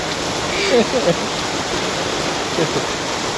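Hail and rain fall steadily in a dense, even hiss, with a few faint voiced sounds briefly rising over the wash.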